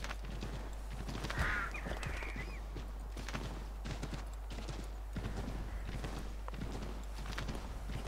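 Steady clip-clop of horse hooves at a walking pace in Assassin's Creed III, fairly close, with a brief snort partway through; no talking.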